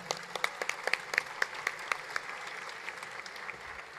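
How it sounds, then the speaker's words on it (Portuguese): Applause from an audience at a political rally celebrating Pará culture, a soft wash of clapping with a few sharp, distinct claps standing out near the front, quieter and thinning toward the end. "uma salva de palmas"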